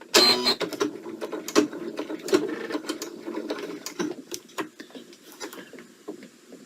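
Sewing machine stitching a coiled rope, running in a short burst of fast rhythmic mechanical clatter that stops and gives way to scattered clicks and handling noises, close and moderately loud.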